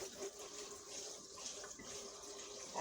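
Tap water runs steadily into a sink while something is rinsed during soap making, a soft continuous splashing hiss with no talk.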